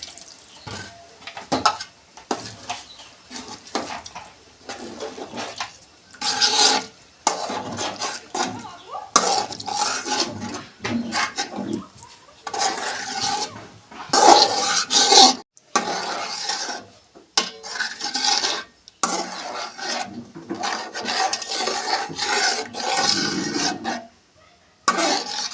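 Dalia khichdi being stirred in a pot, Bengali style, with repeated scraping and clinking of a spoon against metal, wet sloshing and brief pauses, close and moderately loud.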